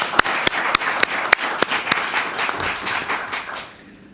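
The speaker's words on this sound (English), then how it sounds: "Let's give them a round of applause for their efforts." An audience at a debate on national security and cyber surveillance claps in a full, sustained round. A few sharp, evenly spaced claps stand out near the front, and the applause fades toward the end.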